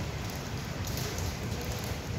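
Steady rain drums on a bare steel deck at a construction site with no sealant or cement poured yet, a dense, continuous hiss with low patter throughout, with no voices.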